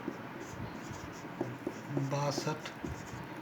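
Faint scratchy strokes of numbers written by hand on paper, a few short irregular scrapes close by, with someone speaking Hindi over them.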